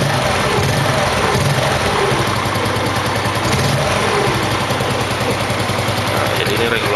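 A Yamaha Mio motorcycle engine with a plug-and-play regulator idles close by in a loud, steady, rapid putter that runs through the whole stretch.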